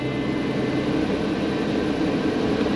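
Mercedes Sprinter van engine in a Jayco 4x4 Terrain camper held above 1500 RPM, a steady, dense droning hum with no change in pitch, loud and close throughout.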